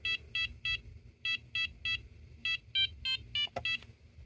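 A small electronic buzzer from a maker advent calendar kit plays a tune as a run of about a dozen short, evenly spaced bright beeps of shifting pitch, fairly loud and close, with a brief click near the end.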